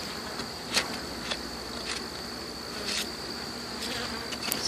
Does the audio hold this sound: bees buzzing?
yes